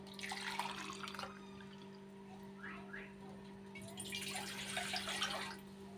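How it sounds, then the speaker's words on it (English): Water poured into a pot to make ginger tea, two bursts of splashing pouring roughly a couple of seconds apart over a steady low hum, at moderate distance. "and I'm going to use 2 glasses."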